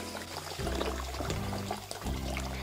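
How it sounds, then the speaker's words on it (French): Cold water poured onto rice in a bowl, a steady close splashing pour that runs for a couple of seconds with a brief break midway. "Je mets du riz dans un bol et je mets de l'eau froide."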